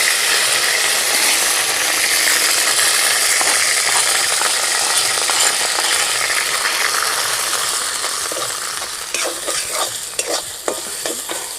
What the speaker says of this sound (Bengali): এবার কড়াইশুটি পেস্টটা দিয়ে দেবো